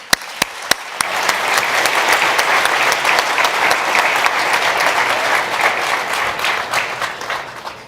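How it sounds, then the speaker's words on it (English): An audience at a venture-capital panel event applauds three panelists: a few sharp, isolated claps open the sound, then it swells into dense, steady clapping that holds loud and full to the end. "I think we can give an applause to the three panelists"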